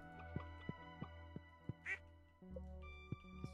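Cartoonish duck quacks from the Stardew Valley farming game, a few short quacks over steady game music with a faint voice or chime near the middle, fairly quiet.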